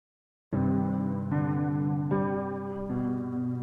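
A dark sustained synth chord sequence made in Ableton shifts through four steps, thick and washed in reverb and chorus, with no voices.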